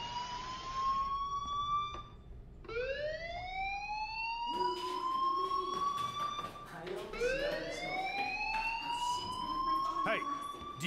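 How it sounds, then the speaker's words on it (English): A fire alarm in the Life is Strange video game sounds as repeated rising electronic whoops, loud and insistent, cycling several times with brief gaps and a few clicks and rustles mixed in. "do you hear that fire alarm?"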